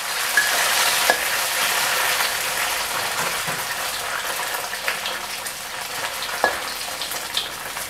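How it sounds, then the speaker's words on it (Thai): Snakeskin gourami deep-frying a second time in hot oil, a steady bright crackling sizzle throughout with a few sharper pops, close and fairly loud, no talking. "ลงทอดอีกครั้ง"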